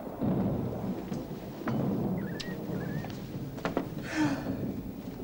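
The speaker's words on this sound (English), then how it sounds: "It's going to storm." Thunderstorm with low thunder rumbling in broad swells beneath rain, a few faint higher chirps and a brief knock over the steady wash, with no voices.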